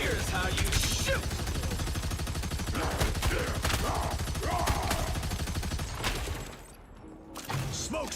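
Video game gunfire rattles in dense, rapid automatic bursts, loud and sustained for most of the stretch, then drops away briefly before more shots return near the end.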